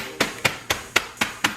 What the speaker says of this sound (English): you can take a mallet like this, or meat tenderizer is what this is